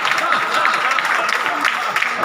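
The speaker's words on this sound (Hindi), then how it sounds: "तालियां थोड़ी कमजोर है" Audience applause at a Hindi poetry recital, a steady wash of clapping from a crowd that sounds fairly modest and even throughout, with no distinct peaks.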